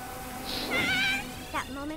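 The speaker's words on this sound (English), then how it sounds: "That's a cat." A cat meows in South Park: The Fractured But Whole, one wavering meow in the middle of the short stretch over steady background game sound, followed by a faint second call.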